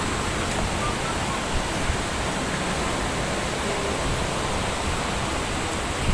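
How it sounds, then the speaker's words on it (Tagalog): A river's water rushes strongly, a dense, continuous roar of churning flow that holds steady and loud throughout. "Pagbulusok ng tubig, ang lakas."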